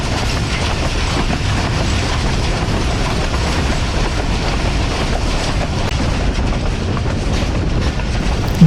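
A moving Millat Express train rattles and rumbles on the rails, heard from inside the carriage as a loud, continuous clatter with steady low rumble throughout.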